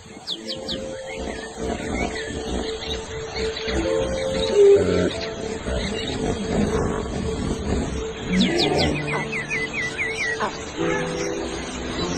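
A lioness calls for her missing cub in the wild, with low moaning calls repeating at intervals against a background of chirping birds and outdoor ambience.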